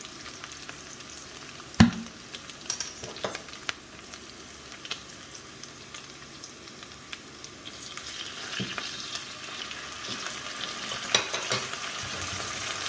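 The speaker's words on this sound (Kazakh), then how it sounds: "Етіміз жақсылап қуырылды, өз тобында өзі қуырылды." Meat sizzles and fries steadily in a hot pan for a funchoza glass-noodle salad, a constant close crackle with occasional stirring clicks and scrapes, growing slightly louder toward the end.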